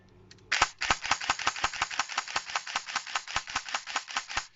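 Airsoft Thompson M1A1 with a Mosfet installed firing full-auto: a short burst, then a fast, steady stream of sharp mechanical gearbox cracks, close and crisp, lasting about four seconds.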